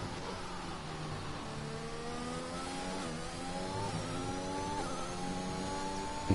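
An Aston Martin racing car engine in a racing video game screams at high revs, its pitch climbing through the gears with brief drops at shifts. The sound is steady and continuous, with no voices.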